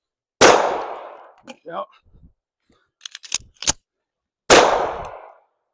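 Handgun shots during a shooting drill that mixes reload and marksmanship work: two loud, sharp single reports several seconds apart, with magazine clicks and handling noises and a brief spoken word between them.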